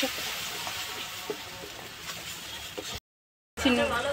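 Yogurt and cashew paste poured into fish frying in a pan gives a continuous soft sizzle that holds steady, then breaks off briefly and resumes.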